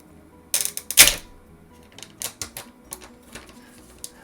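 Plastic wrapper torn off an iPod touch 3rd generation box: a burst of sharp crackles and a loud rip early on, then scattered crinkles and snaps, close and clear with no talking.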